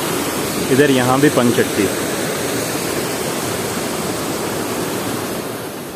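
A waterfall in Allai Valley roars as a steady broadband rush throughout, with someone speaking briefly over it near the start.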